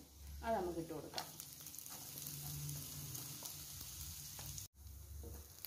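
Finely chopped small onion hits hot oil in a pan for a dal manchurian, with a steady sizzle, occasional stirring scrapes and a brief dropout near the end.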